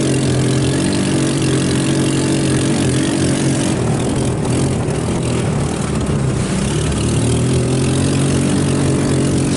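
A salvaged off-road go-kart engine drones steadily and loudly as the kart spins donuts across a grassy pasture, holding an even mid-pitched hum throughout.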